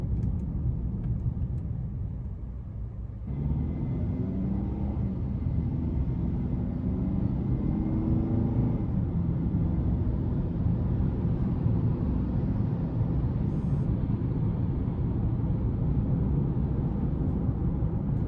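A 2022 Hyundai Santa Cruz SEL AWD pickup drives on the road in normal mode. Steady road and engine rumble fills the cabin throughout, growing a little fuller after the first few seconds, with no talking.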